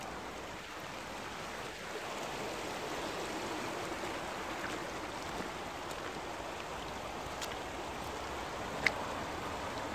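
A river in rural Ireland flows in a steady, even rush near a small road bridge, continuous and fairly soft with no voices.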